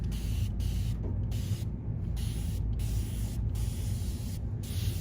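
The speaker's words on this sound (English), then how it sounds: "I'm just gonna spritz this a little, let that dampen" Spray bottle spritzing water onto embroidery fabric: several quick, close hissing bursts in an irregular series, each short and crisp, with brief gaps between them.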